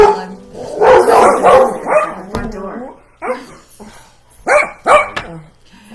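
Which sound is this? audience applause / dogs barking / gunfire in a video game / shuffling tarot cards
dogs barking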